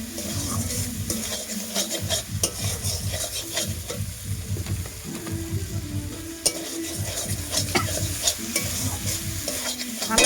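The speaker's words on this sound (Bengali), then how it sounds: "তাই একটু মশলাটার সঙ্গে ভালো করে ভেজে নিতে হবে" Egg frying with spice masala in a pan, a steady sizzle under repeated scraping strokes of a spoon stirring against the metal, loud and close throughout.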